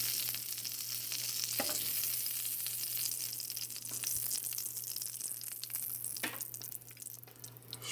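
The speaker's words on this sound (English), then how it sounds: "Get our garlic in the pan." Garlic sizzling in a hot frying pan on medium-high heat beside shrimp, a steady close crackle and hiss with occasional stirring scrapes, and no talking.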